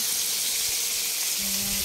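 Chicken pieces fry in hot oil, giving a steady, even hiss and sizzle that runs without a break from start to finish, with a faint low hum near the end.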